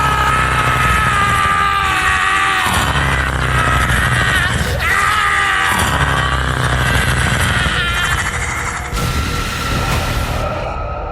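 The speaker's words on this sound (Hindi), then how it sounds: "उन राहगीरों की चीखों से वो पूरा इलाका गूंज उठा।" Screams of passersby in a horror story sound effect, dense and continuous cries and yells layered over a loud rumbling background, sustained for the whole stretch.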